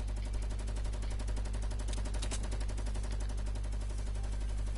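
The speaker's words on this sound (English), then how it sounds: "Oh, you're shooting." Continuous rapid automatic gunfire in the Fortnite Battle Royale video game, a loud, steady stream of evenly spaced shots with a heavy low hum underneath and a brief louder burst partway through.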